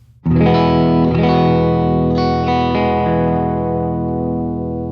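A single sustained electric guitar chord rings out through a pedal board and amp and cab simulator, with a Goodwood Audio Long Line last in the chain, thick with harmonics and slight modulation, then slowly decays over several seconds.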